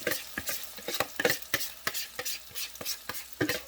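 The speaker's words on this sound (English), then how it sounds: "we're going to stir this up really quick" Butternut squash risotto being stirred after the drained rice mixture goes in, with repeated short scraping strokes of a spoon against the pot at an uneven rhythm over a low sizzle, close and moderately loud, no talking.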